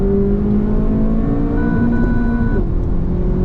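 A Honda Civic Type R engine, 320 horsepower with a six-speed manual, drones loudly and steadily up close at a race circuit, with a rising and falling pitch as it revs.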